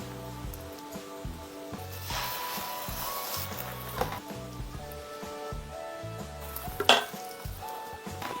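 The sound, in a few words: seaweed pancake (gim-jeon) sizzling while frying in a pan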